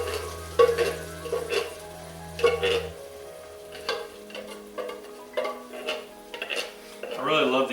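Canned crushed tomatoes are poured into a hot pot amid irregular wet clunks and scraping stirs, with a low background hum that cuts out partway and a louder burst of sizzle near the end.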